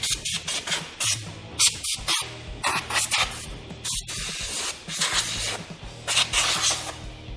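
Drum brake parts are dusted off with a spray can in repeated short bursts of hissing, mixed with faint knocks and handling clatter. The sound is close and loud, with no voices.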